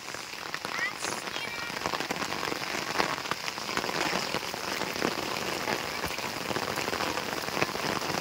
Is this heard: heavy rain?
yes